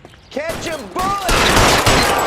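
Gunfire in the 1940s Los Angeles crime game L.A. Noire, loud and continuous, a dense burst of shots following a brief voice at the start.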